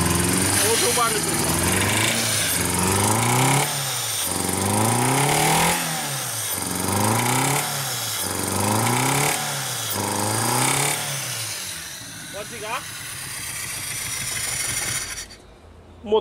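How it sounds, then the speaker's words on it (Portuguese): A 1995 Fiat Uno 1.0 engine revs up and drops back in repeated, regular surges, running rough with a knocking rattle from piston slap, then settles and cuts off. "o motor provavelmente está batendo saia, a saia do pistão"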